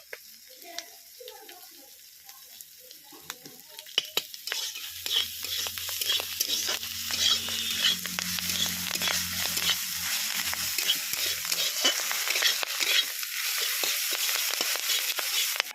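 Nigella seeds (black cumin) frying in hot oil for a village breakfast dish, a soft crackle that swells into a steady sizzle with scattered stirring clicks, heard close and without talk.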